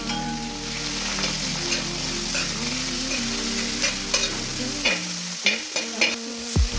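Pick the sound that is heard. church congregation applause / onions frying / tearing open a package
onions frying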